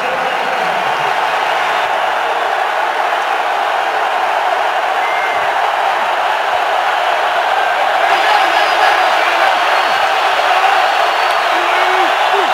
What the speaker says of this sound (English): Crowd already in full throat